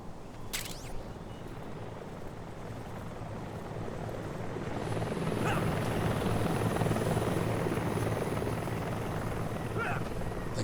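A helicopter in Metal Gear Solid Delta: Snake Eater whirs overhead in a steady rotor drone that grows a little louder partway through, with no speech.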